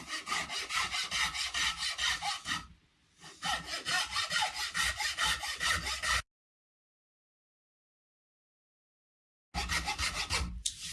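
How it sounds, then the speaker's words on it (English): An Iwasaki file smoothing a wooden guitar body, heard as rapid, rhythmic rasping strokes close up, a brief pause mid-stroke, then a stretch of silence before the filing resumes. "I'll try out my Iwasaki file on there and see how smooth I can get that just by filing it."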